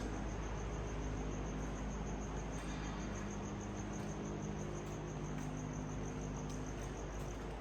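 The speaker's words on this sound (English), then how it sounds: "You guys hear the crickets?" Crickets chirp steadily at a mausoleum in a continuous high, pulsing trill over a low background hum, with no voices.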